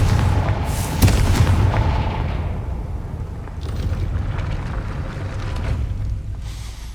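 A Confringo blasting spell cast in Hogwarts Legacy bursts with a loud booming impact, then rumbles and fades away over several seconds, followed by lighter crackling debris and ambient noise.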